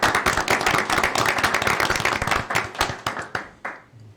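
A room at a city mayor and council meeting breaks into a round of applause for a newly appointed advisory committee member, close, lively clapping that holds briefly, then thins into a few scattered claps and stops.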